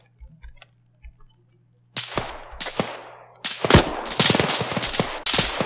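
Gunfire in the military shooter game Arma 3: a few soft distant shots, then loud, close, rapid bursts of automatic fire with sharp cracks, densely overlapping toward the end.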